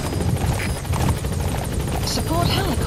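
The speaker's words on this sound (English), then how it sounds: "Support helicopter has arrived." Support helicopter in Metal Gear Solid 5 arriving at the landing zone, a steady loud rotor chop and engine roar throughout, with radio voices talking over it.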